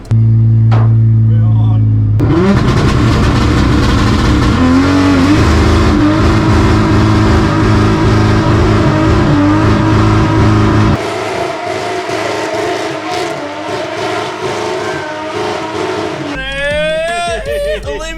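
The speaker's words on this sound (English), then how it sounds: "we might throw a little clip of us doing a fat skid" A Barra-powered wagon being drifted, its engine revving hard with loud, sustained tyre squeal through a long slide, then the roar drops off before a brief burst of chirping at the end.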